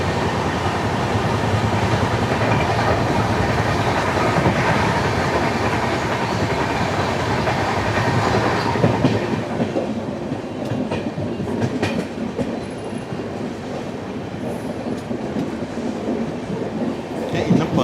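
A Gandhidham–Tirunelveli Humsafar Express with LHB coaches runs along the rails, heard from on board as a steady loud rumble with rhythmic wheel clatter, shifting to a slightly lighter, brighter rattle partway through.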